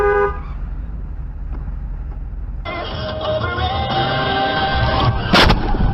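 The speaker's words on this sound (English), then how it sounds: "A crash has been detected." A dashcam car crash: a quiet, steady road drone jumps abruptly into a louder, dense blare of sustained car-horn honking, with a brief sharp burst of impact noise near the end.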